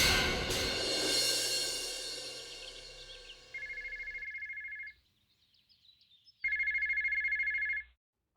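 A house telephone rings in loud trilling bursts, a long electronic ring followed by a pause and a second ring, indoors with no one answering.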